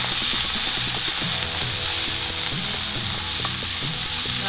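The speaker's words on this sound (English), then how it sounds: "the tomatoes have been frying for nearly 3 minutes" Tomatoes sizzle steadily in a hot pan while being cooked down for chicken momos, a continuous bright crackle with occasional stirring scrapes and clinks close by, no voices.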